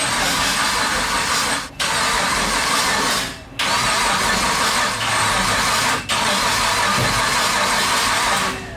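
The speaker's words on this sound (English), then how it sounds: "I think I can use the starter motor to roll it out of this thing" Starter motor on a Chrysler Chromino cranks the engine in three long bursts with short pauses between them, a loud steady whirring grind that stops and restarts without the engine catching.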